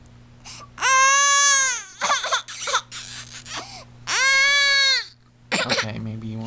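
A baby girl cries in a tantrum, letting out long, loud wailing howls in several bursts separated by short sobbing gasps, with a faint steady hum underneath.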